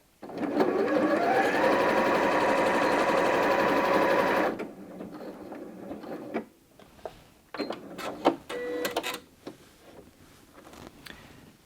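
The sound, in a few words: Janome M200 QDC sewing machine stitching a pattern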